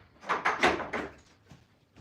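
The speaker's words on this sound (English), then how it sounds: "hang on just a second because I got to close the door" A door is closed indoors in a room with Cane Corso puppies, giving a few soft, close thumps and rattles over about a second, then quieter faint knocks.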